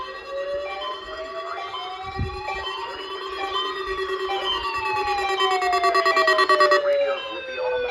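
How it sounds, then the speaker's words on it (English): A wavering, multi-tone warning alarm sweeps up and down continuously, loud and close, like a weather radio broadcasting an emergency alert tone. "Radios will be automatically activated to warn of the impending hazards."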